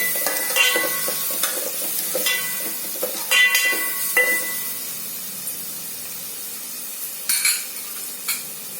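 Half a spoon of turmeric powder sautéed in oil for a soybean curry: a close, crackling sizzle with intermittent metallic scrapes and clinks of a spoon against the pan, bursts flaring up now and then.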